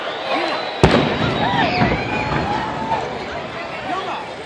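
Fireworks bursting over Washington, D.C. on the Fourth of July: one sharp nearby bang followed by crackling and distant pops, under an excited crowd murmuring and exclaiming.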